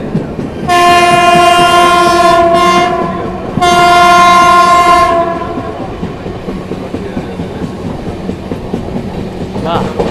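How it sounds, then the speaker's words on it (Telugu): Horn of the Janshatabdi Express (12079, KSR Bengaluru to Hubballi) blaring in two loud sustained blasts, the second longer, while the train runs, followed by steady rumble of the moving coaches. "హార్న్ పడుతున్నాడు."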